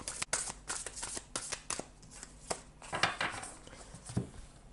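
Oracle cards being shuffled by hand, a rapid run of crisp riffling snaps and slides up close, fairly quiet, with no one talking during it.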